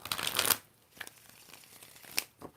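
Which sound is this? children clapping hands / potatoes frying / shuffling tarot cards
shuffling tarot cards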